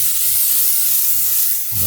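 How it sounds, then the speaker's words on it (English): Olive oil sprays from a can into the pan of a preheated air fryer, a short, steady, close hiss with no talk over it. "Going to spray it with some olive oil pan."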